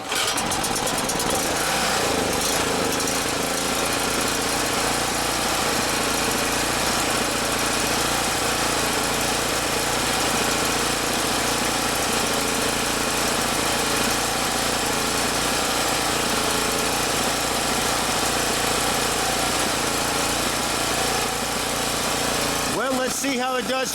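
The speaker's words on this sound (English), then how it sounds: "the generator's in its regular spot under load" A Champion portable generator engine runs under load, a steady loud broadband drone that holds for about twenty-three seconds before cutting off abruptly near the end.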